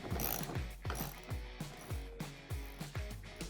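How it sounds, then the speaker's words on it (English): A socket wrench ratchets to tighten a bolt threaded into a Milwaukee PACKOUT handle release pin kit, making about six close, crisp clicking bursts in an even back-and-forth rhythm. "Then you can take either a wrench or a socket and just go ahead and tighten it up."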